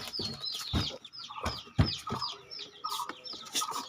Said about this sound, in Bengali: দেখুন চীনের হাঁসের বাচ্চাগুলো কত পিস